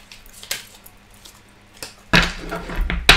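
A deck of oracle cards being shuffled by hand, with faint scattered handling sounds at first and then a denser, close-up burst of riffling cards near the end.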